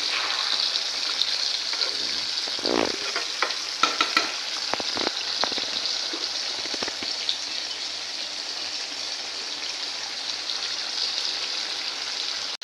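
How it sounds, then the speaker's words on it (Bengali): Chicken meat being sautéed in a pan, a continuous loud sizzle with a hiss like rain, broken by a few scraping stirs and clinks of a utensil close by. "মাংসটা এদিকে কষানো হচ্ছে"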